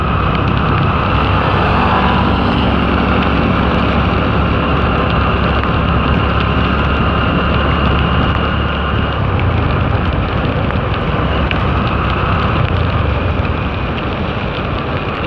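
Heavy rain pours steadily and loudly on a road, a dense continuous hiss with vehicle rumble underneath, close and unbroken throughout.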